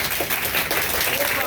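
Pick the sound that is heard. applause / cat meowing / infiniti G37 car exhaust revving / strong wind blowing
applause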